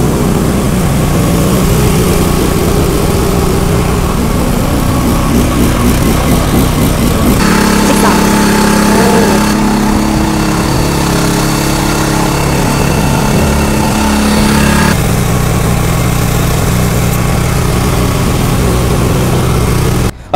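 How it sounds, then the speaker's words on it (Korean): An engine-driven power sprayer, started remotely by a remote control, runs loud and steady throughout, its tone shifting partway through as the load changes. "이렇게 리모컨을 통해서 시동을 온오프 할 수 있습니다"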